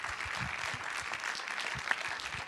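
An audience claps steadily at the close of a conference on disability and ageing, a dense sustained applause with one slightly louder clap near the end.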